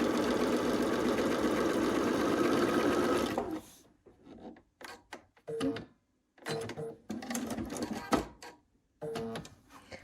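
Sewing machine stitching quilt block seams for an Ohio Star block: a steady loud mechanical run for the first few seconds, then short stop-start bursts of stitching broken by pauses as the seams are matched up.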